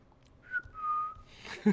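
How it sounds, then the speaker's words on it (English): A single person whistles a short, clear two-part note, rising then holding steady, close and fairly loud, ending with a brief noise. "We'll make it official with a whistle."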